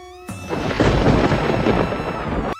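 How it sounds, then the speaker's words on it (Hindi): A loud, close burst of thunder from an unseasonal rainstorm rumbles broadly for about two seconds, then cuts off abruptly, with no voices. "ये बिना मौसम की गरजती हुई बारिश हमें क्या संकेत देती है?"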